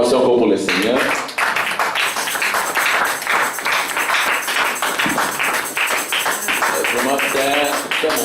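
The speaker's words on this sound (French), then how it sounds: "Acclamation encore pour le Seigneur." A church congregation claps and applauds during a sermon, a dense, loud burst of many hands that rises sharply and continues for several seconds, with a voice speaking over parts of it.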